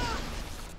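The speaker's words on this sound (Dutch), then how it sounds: "Die ontploffing." A sentry turret blows up in the video game Bioshock, a short muffled burst with a brief rumbling crash that fades quickly.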